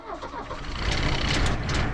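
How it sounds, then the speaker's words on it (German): An old classic car engine cranks and turns over, rising into a rough, steady running rumble with broadband noise; close and fairly loud, with no talk. "dann fahren wir mal und hoffen, dass hier unser Auto gut startet"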